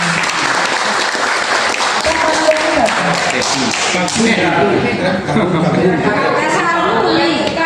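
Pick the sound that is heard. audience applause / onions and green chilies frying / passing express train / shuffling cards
audience applause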